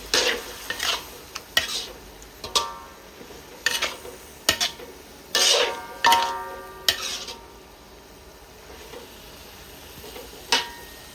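A spatula scrapes and clatters in a pan while food stir-fries for a Thai curry, with repeated sharp, irregular strokes over a steady sizzle, close and loud, no voices.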